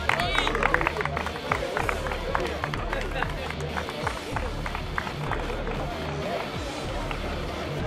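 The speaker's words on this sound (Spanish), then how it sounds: "El aplauso para Martín," Steady applause at a Citroën Competición Clase B race awards ceremony as the fifth-place finisher is called, dense continuous clapping mixed with crowd chatter and talk throughout.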